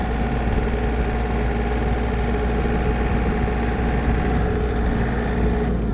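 A Yanmar US-324 mini tractor engine idles at a steady, even rumble, close and continuous with a faint vibration and no voices over it.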